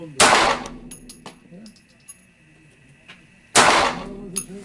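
Two sharp, loud gunshots a few seconds apart ring out at an open shooting range in Nuremberg, the second fired unintentionally, with faint background murmur and small clanks between them.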